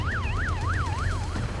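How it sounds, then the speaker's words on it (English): A wailing siren sweeps up and down in regular rising and falling cycles, loud and close, signalling workers to close the sails during a wildebeest capture in Africa. "The siren signals the workers to close the sails as quickly as possible."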